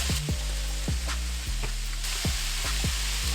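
Ground beef browns in a pan with a steady, loud sizzle, broken by repeated sharp scraping clicks of a utensil stirring at an uneven rhythm, with no talking.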